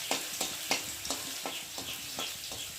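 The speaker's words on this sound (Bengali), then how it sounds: "শুকনো লঙ্কা আর রসুনটা একটু ভালো করে ভেজে নেব" Dried red chillies and garlic fry in oil in a kadai with a dense, close sizzle, cut by regular spatula scrapes about every third of a second.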